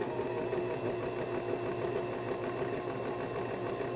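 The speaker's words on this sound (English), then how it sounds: "I'm going to now switch to 3. So that's going to sew the other side." A sewing machine runs steadily as it stitches the second side of a machine-sewn buttonhole, a close, even mechanical whir and rapid needle chatter that carries on without a break and with no voices over it.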